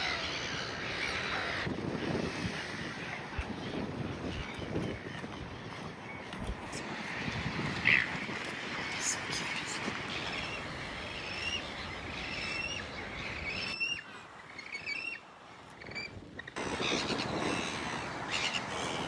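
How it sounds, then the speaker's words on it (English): Small seagulls calling at a coastal clifftop lookout above seals, with short squawking cries scattered over steady wind noise, fairly distant and intermittent. "Little seagulls."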